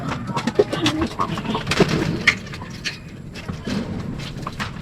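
Racing pigeons in a loft cooing, several soft repeated coos and murmurs close by, with light wing flutters and shuffling around them.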